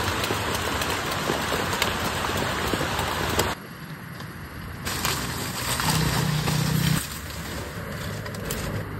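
Steady heavy rain pours down continuously on a mountainside, a dense broadband hiss of drops on surfaces with slight shifts in intensity throughout.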